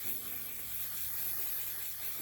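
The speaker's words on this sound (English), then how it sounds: "this is a mattifying setting spray" A mattifying makeup setting spray misted close up in a soft, steady hiss that runs throughout, quiet and without talk.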